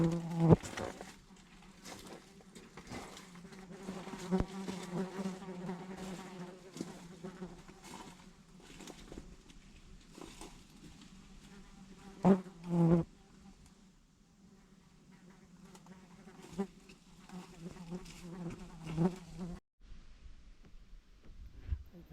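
Cicadas buzz steadily in Australian bush in Girraween National Park, a dense continuous insect drone that holds for most of the stretch before dropping away near the end, with brief louder bumps along the way.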